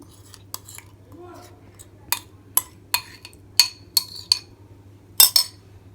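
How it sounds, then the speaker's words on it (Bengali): Chicken pieces being mixed with spice marinade in a bowl, heard as a series of sharp clinks and taps of a utensil against the bowl, sporadic at first then closer together, over a steady low background hum. "এখন ভালোভাবে চিকেনের সাথে এই যে মশলাটা মাখালাম আমি সেটা মিক্স করে নিচ্ছি।"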